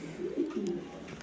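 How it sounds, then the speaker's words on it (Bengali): Uncommon pigeons, including grizzle-coloured birds, cooing in a loft: a few low, throaty rolling coos close by, moderately loud, with faint bird chirps above and no talk. "খুবই সুন্দর আনকমন কবুতর"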